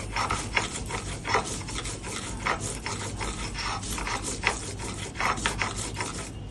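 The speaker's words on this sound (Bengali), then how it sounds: "একটু কাঁচা লঙ্কা, একটু রসুন। ব্যাস, এগুলো আমি বেটে নিচ্ছি" Mustard, green chili, garlic and a little onion are ground on a flat grinding stone, the stone rubbing back and forth in a steady rasping rhythm of repeated strokes, close and continuous.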